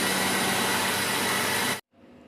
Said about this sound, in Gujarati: એટલે ઘંટી થઈ જશે ચાલુ